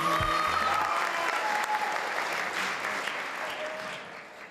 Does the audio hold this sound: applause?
yes